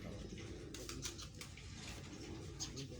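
Pigeons on a rooftop loft in Jhelum give faint, low cooing, soft and muffled beneath a steady background hiss and some watery noise.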